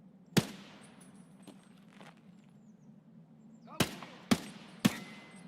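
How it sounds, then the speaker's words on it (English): Gunfire in the video game Escape from Tarkov: a sharp single shot, then after a quiet stretch three more spaced shots close together, each with a short decaying tail over a low steady background hum. "Okay, gunshots."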